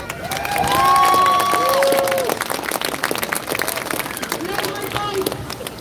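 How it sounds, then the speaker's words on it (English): A large crowd at a fuel protest in Dublin cheers, shouts and claps in a swelling, distant roar, with a whistle-like tone rising over it and nearby voices talking. "Brilliant to see such a big crowd out here."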